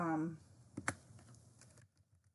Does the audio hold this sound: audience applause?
no